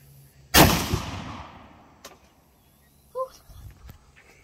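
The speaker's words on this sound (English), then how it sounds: "shoot the bottom one" A single sharp gunshot fired at a target outdoors, loud and close with a decaying echo, followed by faint clicks and brief distant speech.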